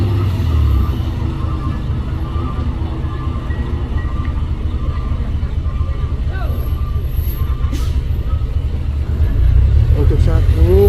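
A heavy Colt Diesel truck engine, carrying a heavy load, rumbles low and steady nearby, growling louder toward the end, with faint chatter under it.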